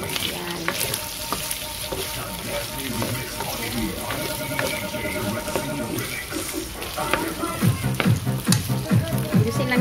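Pork lard sizzles and spits in a frying pan, a loud, close crackling fry with scattered pops and a few clanks of a ladle toward the end.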